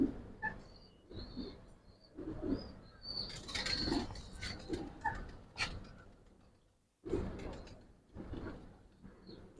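A female Giribaz pigeon coos softly up close in low, muffled bursts that repeat irregularly, with faint rustling between them and a brief quiet gap.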